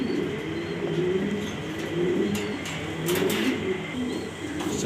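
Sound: male pigeon sitting on eggs, cooing

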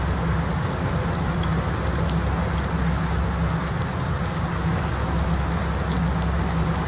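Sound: rain falling in video game Farming Simulator 19

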